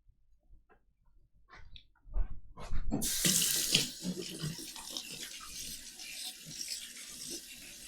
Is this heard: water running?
yes